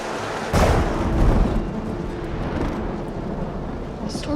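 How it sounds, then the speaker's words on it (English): Thunderstorm with a sudden loud crack of thunder that rolls into a fading rumble over steady rain-like hiss, with a faint voice in the background. "The storm's getting worse."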